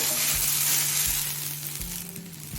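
Malabar spinach stems (pui metuli) fry in a pan with a steady close sizzle, and a spoon scrapes through them in several brief strokes as they are stirred.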